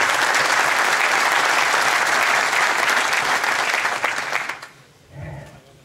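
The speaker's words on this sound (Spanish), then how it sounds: "Bueno, igual lo aplaudimos." An audience in a talk hall breaks into loud, dense applause that holds steady for about four seconds, then fades out as a voice begins to speak.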